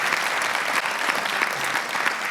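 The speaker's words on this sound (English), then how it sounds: "So give them a round of applause" An audience at an awards ceremony breaks into loud, continuous applause, a dense wash of clapping from a large crowd with no pauses.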